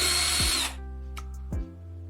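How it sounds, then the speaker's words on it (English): A power drill whirs loudly through a long thin plastic pipe for about half a second before winding down, followed by a brief second spin-up and stop, with no talk. "Take a long thin plastic pipe and drill a hole on one end."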